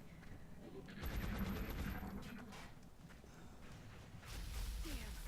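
Suppressive gunfire in XCOM Long War, a faint, sustained burst of rapid automatic shots followed by a second burst near the end, with a low background rumble.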